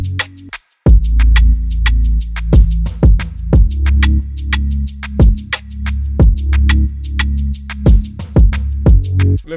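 Rap and R&B beat drums programmed in FL Studio, with a punchy kick, rim hits and rapid hi-hat ticks in a steady pattern, loud and alone.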